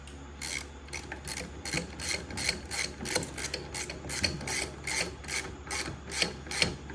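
A hand ratchet clicks in quick, repeated bursts as bolts are tightened on a Baja Bug build, the sharp rasping pawl strokes close and fairly steady over a low background hum.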